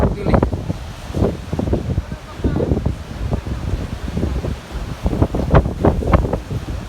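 Gusty seaside wind buffets the microphone at Sanary, France, in uneven low rumbling bursts, with surf and people talking intermittently underneath.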